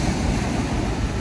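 Ocean surf washing in at Hampton Beach, New Hampshire, heard while wading through icy cold water, as a steady, loud broadband rush with wind buffeting the microphone throughout.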